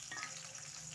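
Cumin and mustard seeds, alongside chilli and urad and chana dal, fry in hot oil in a pan, giving a brief, steady, close crackling sizzle with no voices.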